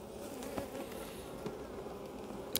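Dense, steady buzzing of honeybees in a queenless hive whose colony is made up mostly of older worker bees, a continuous close drone with a few faint taps, no voices.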